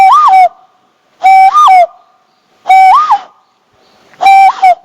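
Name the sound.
bird calls imitated by whistling through the fingers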